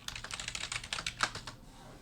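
Password typed on a computer keyboard, a quick run of about a dozen close, crisp key clicks that stops toward the end.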